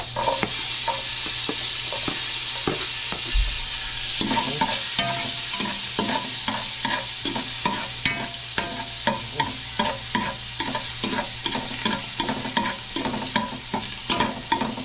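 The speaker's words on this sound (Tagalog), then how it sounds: "Tapos, lagay po natin yung ating bawang." Garlic sizzles and fries in hot oil, with a constant bright crackle and repeated scraping stirs of a utensil against the pan, close and steady throughout without any voices.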